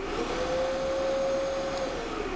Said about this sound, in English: you can set it to manually on to turn the vacuum on if you want it just on